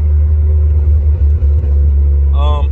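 BMW E36 M3 convertible cruising slowly, its engine a steady loud low rumble throughout with no break, and a brief tonal chime or beep near the end.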